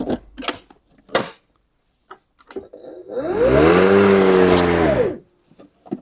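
A Titan PLM4040B power tool running on an original Makita battery: a few handling clicks, then the motor whirs up loudly, runs about two seconds and winds down to silence.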